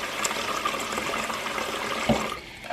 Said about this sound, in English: So all I did was just add some water.